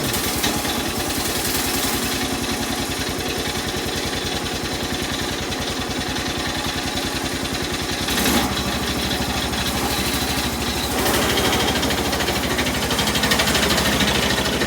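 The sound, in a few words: engine idling in the cold with noisy clutch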